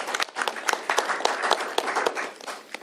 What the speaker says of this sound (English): Give them a round of applause for the leadership on this broad bipartisan support for this bill.